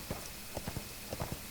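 Horse hooves clip-clopping in the video game ArcheAge, a steady walking rhythm of paired hoof strikes at moderate volume, with no talk over them.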